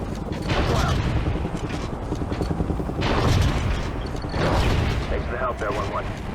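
Explosive booms and rapid gunfire from a missile launch in the shooter game Call of Duty Ghosts, a dense, loud, continuous barrage with voices talking over the battle.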